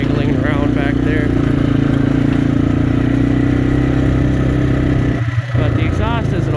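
A 1988 Yamaha Moto 4 250 ATV engine idles roughly and steadily, with a loose rear bushing's metallic rattle jangling underneath and a voice talking over it.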